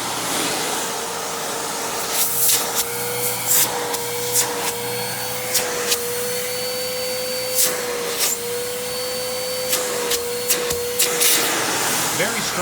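A Simplicity Symmetry Deluxe upright vacuum runs in tool mode with a steady loud motor whine and airflow rush, with intermittent bumps and clicks from the hose and wand.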